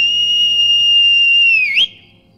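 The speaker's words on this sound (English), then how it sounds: "Horse whistle, there we go." Horse whistle in the video game Skyrim, a single loud, steady high-pitched tone held for nearly two seconds before a brief upward flick and sudden cutoff.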